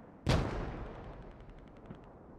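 Gunfire in the military shooter game Squad: one sharp, loud shot with a long, fading echo, then a second, fainter report about a second and a half later.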